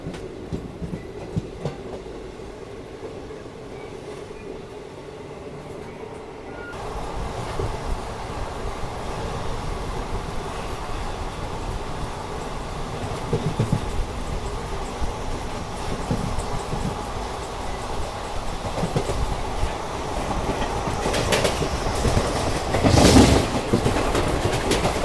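A Mandsaur–Kota Express train runs near Chittorgarh, heard from on board as a steady rail rumble that grows louder and busier partway through, with rhythmic wheel clatter and a brief louder surge near the end.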